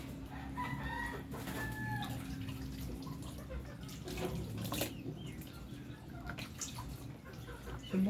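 Chickens cluck in a small flock, with a sick, paralyzed bird among them; soft intermittent clucks and faint calls sit over steady low background noise, with no voices.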